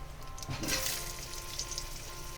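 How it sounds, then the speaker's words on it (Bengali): Diced potatoes dropped into hot oil in a pan for a Bengali kochur mukhi dish, a steady close sizzle and crackle with a brief surge of splattering as they hit the pan. "এবার আলুটা দিয়ে দেবো"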